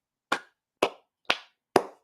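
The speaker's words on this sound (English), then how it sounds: "Everybody clap your hands." Four sharp, evenly spaced hand claps ring out in an otherwise silent space, each a crisp isolated smack about half a second apart.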